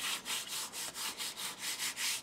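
Paper hinges for a handmade album being burnished into place, a steady back-and-forth rubbing with about ten even strokes, close and fairly soft, with no talking.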